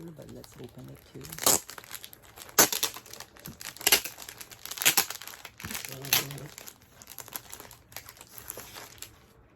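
Plastic wrapping being crinkled and torn off a packaged folder from a BTS Fact Book, loud close crackling in repeated bursts with brief pauses between pulls.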